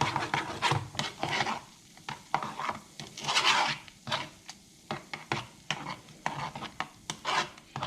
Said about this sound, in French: Allez, on mélange bien le tout.